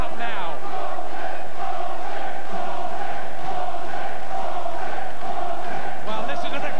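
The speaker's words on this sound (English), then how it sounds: "Well, listen to the crowd now." A boxing crowd in Liverpool cheers and chants steadily throughout a British and Commonwealth super welterweight title fight, a dense, loud arena roar with rhythmic rises and no clear voice above it.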